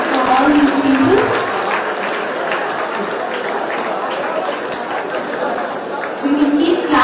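Audience applause at a government aid event for the Bharat Sankalp Yatra launch: steady, dense clapping from a crowd runs throughout, with voices and chatter mixed in over the noise.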